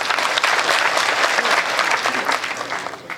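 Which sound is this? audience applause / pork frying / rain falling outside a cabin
audience applause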